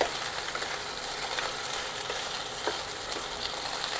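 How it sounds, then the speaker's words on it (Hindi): Okra and onion frying together in a pan over a medium gas flame give a steady, close hiss of sizzling oil, with faint scrapes and crackles scattered through it and no voices. "प्याज के साथ भिंडी को एक साथ फ्राई कर लेना है, इससे क्या होगा भिंडी भी फ्राई हो जाएगी और प्याज भी बाकी फ्राई हो जाएगी।"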